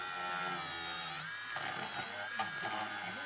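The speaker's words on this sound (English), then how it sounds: "So what I'm doing now is drilling into" A small power drill bores into a plastic R-Type Final R-9A Arrowhead model kit part, giving a quiet high-pitched whine with slight changes in pitch as it cuts.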